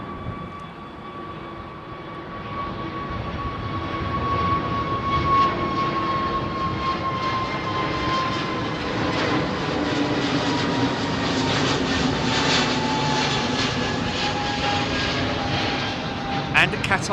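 Qatar Boeing 777 jet arriving at London Heathrow, a loud sustained engine roar with a whining tone that slowly falls in pitch as the airliner passes overhead, with people talking beneath it.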